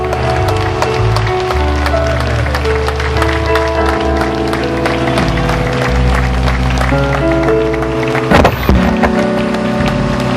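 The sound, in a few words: church congregation applauding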